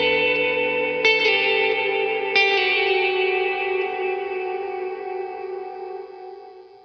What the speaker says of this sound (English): the first knob, the very knob, controls the reverb feedback